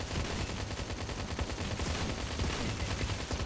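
Dense, continuous gunfire from the video game Road Defense Outsiders, a steady rattle of rapid shots filling the whole stretch without a break.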